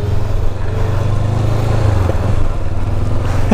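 A motorcycle rides along a mountain road in the Sierra Madre in rain, its engine droning steadily and loudly close by, with a low throbbing rumble throughout and no talk.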